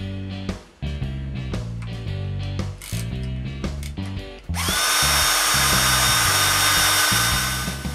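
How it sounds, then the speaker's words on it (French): A power drill bores bolt holes in a piece of wood, starting with a string of short bursts and stops, then one long continuous high whine up close. "Sur ce morceau-là, je perce les trous pour les boulons vis qui retiendront les supports du panier."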